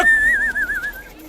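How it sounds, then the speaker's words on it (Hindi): A single sustained whistle tone wavers briefly for about a second, close and fairly loud, with no talking over it. "बिना परमिशन के सीटी बजा रहा है ना?"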